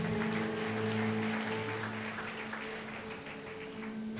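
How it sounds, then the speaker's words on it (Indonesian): Applause from a church congregation during an evangelical worship service, a steady wash of clapping lasting several seconds with a low sustained organ or keyboard tone underneath. "Mari kita beri tepuk tangan buat Tuhan."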